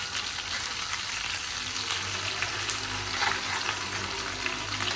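Marinated food fries in butter with a steady, even sizzle and light bubbling that holds at a constant level throughout, close and unbroken, with no talking.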